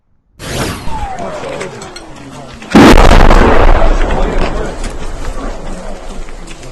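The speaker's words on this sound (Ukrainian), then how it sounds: "Видно величезний та потужний вибух." A plane crashes into an apartment building: a sudden, very loud explosion bursts out after a rising whine of the approaching aircraft, followed by a long rumbling roar that slowly fades.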